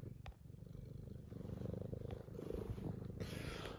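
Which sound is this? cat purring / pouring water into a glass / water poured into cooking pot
cat purring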